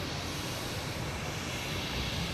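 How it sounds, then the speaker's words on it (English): A fixed-wing airplane passes at Boston Logan Airport, heard as a steady, distant broadband engine roar at low level with no talk. "Oh, I didn't see this plane."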